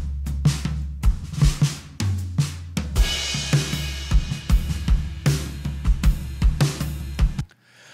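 A full drum mix with parallel compression and distortion drives along at a steady groove. Punchy kick and snare hits pump over a loud sustained low end, with a washy, crashing cymbal passage in the middle.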